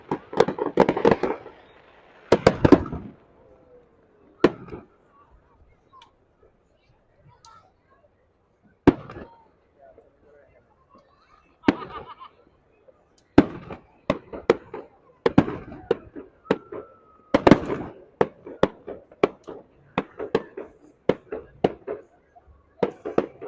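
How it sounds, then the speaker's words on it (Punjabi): Fireworks at a US Independence Day celebration burst in loud, sharp bangs, singly and in irregular clusters, with quiet gaps between them and rapid crackling volleys toward the end. "ਜਿਸ ਤਰੀਕੇ ਦੇ ਨਾਲ ਜਿਹੜਾ ਆਤਿਸ਼ਬਾਜ਼ੀ ਜਿਹੜੀ ਹੈ ਉੱਤੇ ਫੈਲਦੀ ਹੈ"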